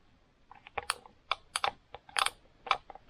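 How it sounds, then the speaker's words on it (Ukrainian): Sharp relay clicks in a Kia Rio fuse box snap on in quick irregular bursts, a dozen or so close-up clicks scattered over a few seconds with no talking. "Чуємо і бачимо, реле в блоці срабатують."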